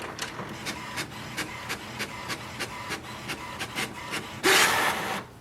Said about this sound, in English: we can just print a page to see for the